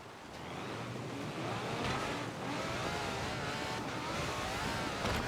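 A car accelerates in the Forza Horizon 4 racing game, a steady engine roar that builds and holds loud and close throughout, with a brief tire squeal mixed in.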